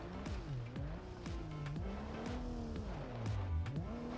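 SUV engine in BeamNG Drive labouring up a hill in high-range four-wheel drive, a steady loud drone with pitch rising and dipping as revs shift, punctuated by repeated sharp transient knocks, with no talk over it.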